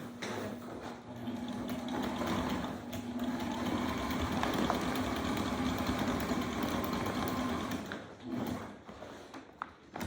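A sewing machine runs steadily while double-stitching down the sides of a sail during a window replacement repair, a continuous mechanical whir with a humming tone that eases briefly near the end.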